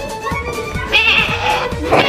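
A person playing an office animal-imitation game mimics a sheep bleating with a hoarse, strained voice, making a series of rhythmic, close, loud pulses.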